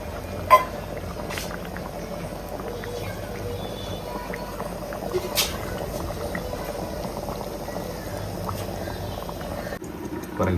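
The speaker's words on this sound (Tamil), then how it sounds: "குழம்பு நல்லா கொதிக்குது" Fish curry bubbles in a pot at a steady simmer, a continuous soft gurgling hiss heard up close, with a few faint clicks.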